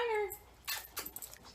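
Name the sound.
boxer dog whimpering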